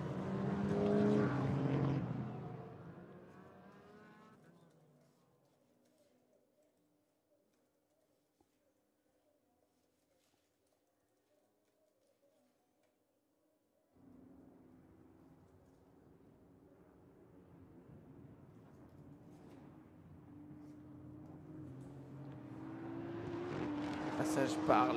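GT4 race cars approach the chicane at Circuit Paul Ricard, engines roaring loud at first, fading to near silence, then building again as more cars come through, with commentary over the track noise.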